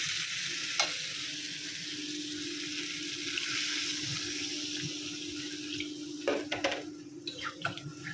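Water is poured into a hot curry pan holding potatoes and eggs, bringing a steady, fairly loud bubbling sizzle that runs the whole time, with a few sharper splashes and clatters near the end.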